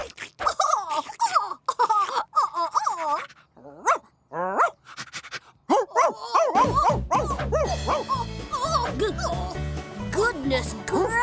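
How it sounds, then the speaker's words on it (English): A cartoon dog barks and yips in an animated children's phonics show, voiced in lively bursts mixed with speech-like calls, then overlaid by bright music and sound effects; other characters' voices are also heard. "Dog!"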